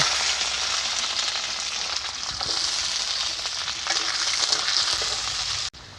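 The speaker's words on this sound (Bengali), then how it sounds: "তেল গরম হয়ে গেছে আলু আর বটবটিগুলো ভেজে নেব" Potatoes and mixed vegetables fry in hot oil with a dense, continuous close sizzle and crackle that holds steady throughout, with no voices.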